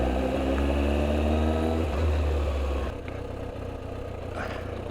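A Kawasaki ZX-9R motorcycle idling nearby with a steady low engine rumble, which shifts to a rougher, lower tone about halfway through; no clear speech over it.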